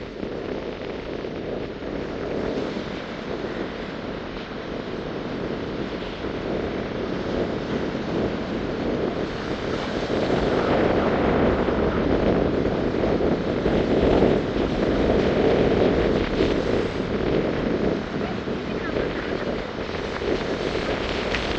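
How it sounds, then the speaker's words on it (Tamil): Strong storm wind roars steadily at Mathagal beach in Jaffna, a dense, continuous rush with surf mixed in that swells louder midway, with no voices. "அது எப்படி காற்று வந்து வீசு இங்கே பாருங்க"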